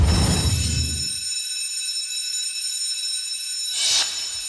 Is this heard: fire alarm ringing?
yes